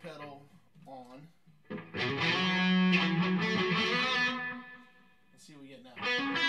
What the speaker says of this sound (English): This is DS1 distortion with the pedal on.